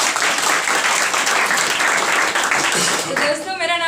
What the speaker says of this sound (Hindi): चलिए अपने लिए एक बार ताली बजाएं,